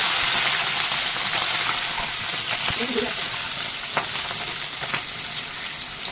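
Boiled snails dropped into hot oil with onions in a pan, giving a steady, dense sizzle that stays fairly loud throughout, with a few faint clicks and stirring sounds over it.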